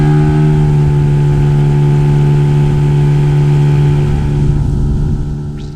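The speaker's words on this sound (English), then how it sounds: "I dropped the outboard to its normal operating position and then opened the throttle." An outboard motor on a small boat, lowered into its running position and opened to full throttle, gives a loud, steady engine drone with a strong humming tone that eases off slightly toward the end.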